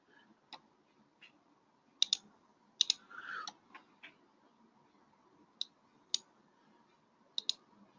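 Sharp computer mouse clicks, some in quick doubles, sound close and quiet at irregular intervals over a faint background, with no voices.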